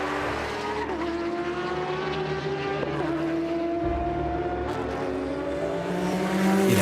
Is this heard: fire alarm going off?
no